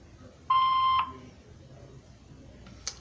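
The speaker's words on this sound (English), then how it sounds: "Please leave your name and phone number after the beep." A single answering machine beep sounds clearly for about half a second, a steady electronic tone over quiet line hiss, followed by a brief faint click.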